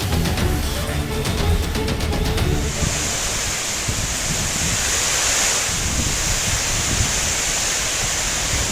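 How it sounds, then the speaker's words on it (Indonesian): Heavy rain and strong wind lash part of Bekasi, West Java, a steady broadband roar of downpour and gusts buffeting the microphone, loud and continuous throughout with no voices. "Hujan deras disertai angin kencang menerjang sebagian wilayah di Kota Bekasi"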